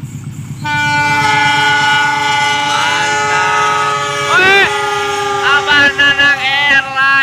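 The Mutiara Selatan passenger train roars past close by, its horn sounding long and loud with steady harmonic blasts, wheels and carriages rumbling, with brief shifting pitch bursts near the end.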